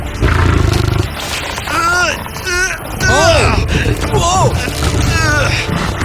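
Lion roaring loudly and repeatedly while straining against a strongman in a pulling contest, deep rough roars in a rising and falling series over a low engine-like rumble.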